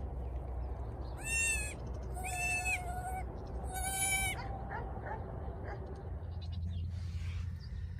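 Newborn twin baby goats bleat on a cold night, three clear, close cries in quick succession, with softer calls after them over a steady background hum.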